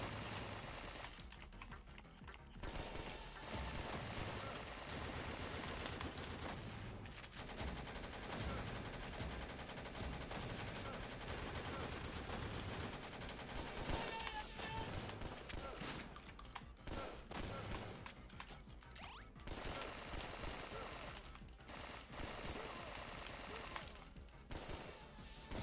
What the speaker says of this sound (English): That's men with shotguns.